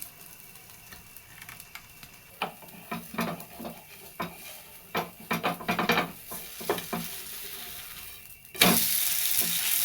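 Ghavane, a thin rice-flour crepe batter, sizzles and crackles in oil in a pan, mixed with scraping and light utensil knocks, growing into a louder steady hiss once a lid goes on near the end.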